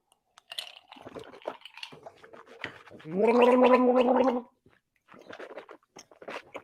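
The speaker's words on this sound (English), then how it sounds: "I'll use some of my ice or ice water to cleanse the palate." A person gargles ice water to cleanse the palate during a rye whiskey tasting, producing one loud, bubbling gurgle of about a second and a half, framed by close mouth clicks and smacking sounds, with no speech.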